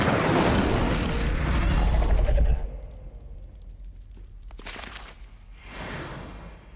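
A fire spell cast in Hogwarts Legacy bursts out as a loud roaring whoosh that cuts off sharply after about two and a half seconds. Fainter magical swells follow it.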